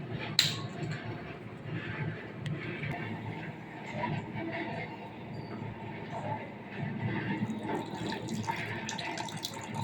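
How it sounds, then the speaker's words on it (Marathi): Water pours steadily into a mix of barnyard millet and sago flour, a soft, continuous rushing splash, fairly close, lasting throughout with faint background noise. "पाणी आपल्याला लागेल तसं घ्यायचं आहे"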